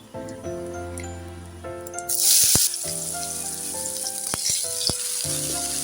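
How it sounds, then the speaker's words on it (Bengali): Vegetables such as eggplant tipped into hot oil with fried whole spices for niramish shukto burst into a loud, hissing sizzle that settles into a steady, close frying crackle with occasional stirring clicks, with no voices. "এবার আমার তেলটা গরম হয়ে গেছে, ফোড়নটা ভাজা হয়ে গেছে, আমি এর মধ্যে এগুলো দিয়ে দেবো"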